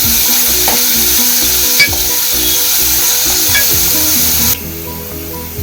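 Onions sautéing in a pan for a Malvani crab curry, a loud close sizzle with scraping stirs and a few utensil clicks, which drops off abruptly near the end.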